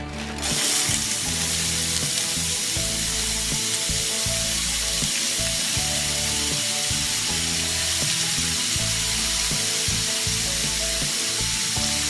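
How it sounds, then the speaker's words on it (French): Meat sears loudly in oil in a hot frying pan for hachis parmentier, a constant close hiss and crackle with a busy rattling texture that keeps up steadily from start to finish. "Je remets un petit peu d'huile. Et je fais saisir ma viande."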